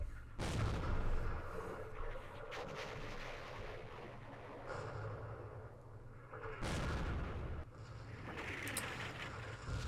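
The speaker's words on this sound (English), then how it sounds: "Let's use our artillery on them. And the mortars, we'll just try and randomly hit something there." Artillery and mortar fire in the Vietnam war strategy game Campaign Series Vietnam: deep booming blasts, one near the start and another later, each with a rumbling tail, over a continuous low roar.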